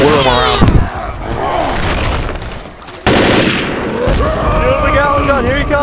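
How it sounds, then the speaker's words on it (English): Gatling gun fire in Left 4 Dead, with loud bursts of rapid shots and a sudden heavy blast midway, mixed with game sounds and voices. "Get on the Gatling gun, I'm gonna whirl him around."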